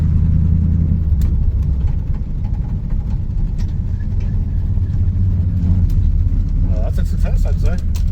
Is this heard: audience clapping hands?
no